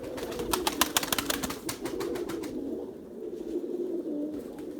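Pigeons in a loft, a low rolling coo repeating near and steady, with a burst of sharp flapping or clattering in the first half and quieter cooing continuing after.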